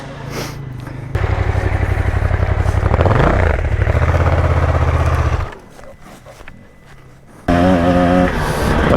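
A 2025 KTM 300 EXC two-stroke enduro motorcycle engine revs loudly and close by with a choppy, buzzing rhythm, drops to a quieter idle partway through, then picks up again.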